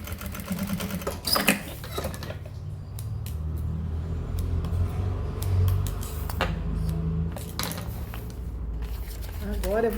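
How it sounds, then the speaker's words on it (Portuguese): Sewing machine topstitching a fabric necessaire bag, a close steady motor whir that starts and stops in bursts with handling clatter, a voice talking briefly alongside. "E vou fazer a costura de pesponto aqui também."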